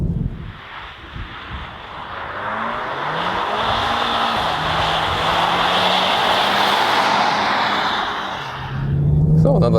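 A Seat Leon ST Cupra with a 300 hp engine, DSG gearbox and all-wheel drive drives a snow track. The engine drones loudly and steadily and rises as the car accelerates, with a rushing, hissing roar of tyres in the snow throughout.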